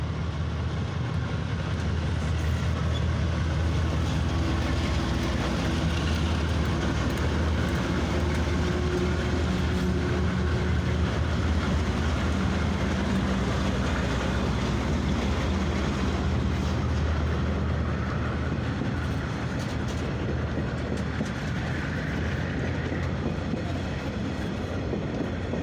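A heavy coal train on New Zealand's Midland Line rolls past steadily, with a continuous low rumble of wheels and cars on the track and faint rhythmic clatter, never fading out.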